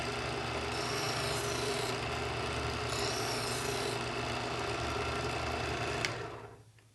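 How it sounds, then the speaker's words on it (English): A Smith's Adjustable Edge Pro electric knife sharpener grinds along a blade with a steady buzzing rasp over motor hum, holding level for about six seconds and then winding down. "Now you sharpen the complete blade."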